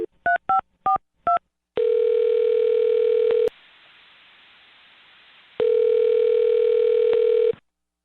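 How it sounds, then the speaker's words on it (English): Four quick touch-tone dialing beeps open a phone call, followed by two long, loud ringback tones with a quieter hiss between them. "I'm going to dial his phone number right now"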